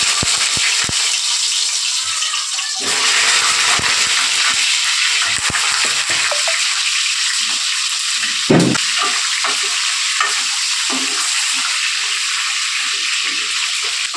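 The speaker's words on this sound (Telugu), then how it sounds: "కాకరకాయలు అయితే ఆయిల్ వేడైనాక ఇవైతే మంచిగా ఫ్రై చేసేసుకుందాం" Pieces of cut bitter gourd fry in hot oil, giving a loud, steady, hissing sizzle that runs without a break from start to end, with one brief louder pop partway through.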